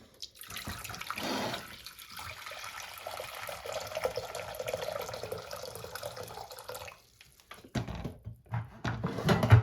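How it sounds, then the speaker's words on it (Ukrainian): Water runs from a tap into a kitchen pot to measure out a litre for a cabbage marinade, a continuous close splashing stream that stops abruptly and is followed by a few clanks of the pot. "Для цього ми беремо каструлю, наливаємо літр води."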